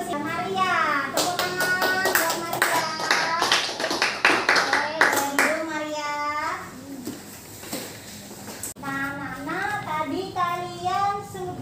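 Children clap along with their own singing of a farming song, rhythmic handclaps under young voices that keep singing, pausing briefly, then resume.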